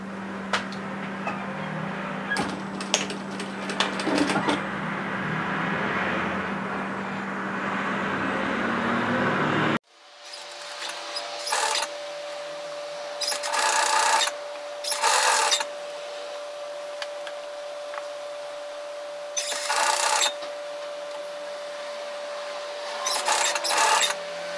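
Sewing machine stitching a seam on a lounge top, humming steadily for a long run, then stopping and restarting in several short bursts with a different tone after a pause.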